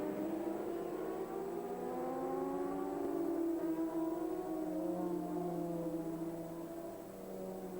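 Honda RC45 racing motorcycles in a 1997 French endurance race, engines droning loudly and continuously with rising and falling pitch as the bikes pass, no talking.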